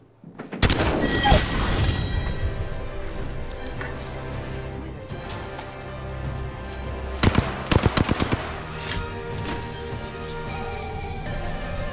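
Gunfire in the Apex Legends battle royale game: loud bursts of rapid shots open the clip, sustained weapon fire and game effects continue throughout, and another sharp volley of shots hits near the end.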